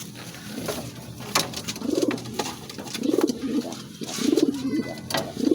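Pigeons cooing close by, soft low repeated coos in three or four phrases over faint background noise and light rustling.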